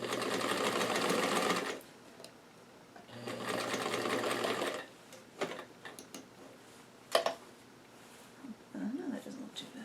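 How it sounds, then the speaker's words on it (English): Home sewing machine stitching a doll dress runs in two steady bursts of a few seconds each, then gives way to scattered handling clicks and brief quiet murmuring. "I know this isn't the strongest sewing machine."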